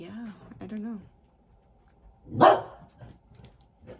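A dog in a room barks and whimpers: high, wavering whines in the first second, then one loud, close bark near the middle, with a few brief spoken words early on.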